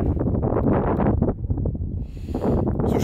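Cold winter wind buffets the microphone outdoors in light snow, a loud rushing roar that gusts and eases over a few seconds with no voices.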